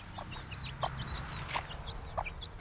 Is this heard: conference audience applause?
no